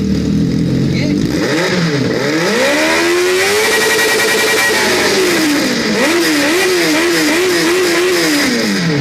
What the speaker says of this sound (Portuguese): Essa moto aqui tá com barulho, velho.